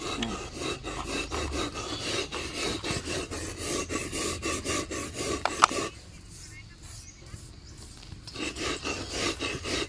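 Sugar being ground by hand, a steady rhythmic rasping scrape repeating close by for most of the stretch, with a brief quieter pause before the grinding resumes.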